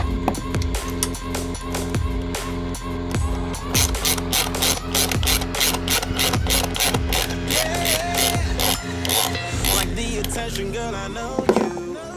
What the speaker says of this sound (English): I can put this clamp back on to really make it airtight.